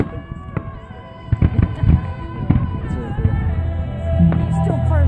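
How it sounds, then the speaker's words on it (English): Fireworks at a festival go off in a string of sharp pops and bangs, mid-distance, beneath steady crowd noise and people talking nearby. "There's more fireworks to see."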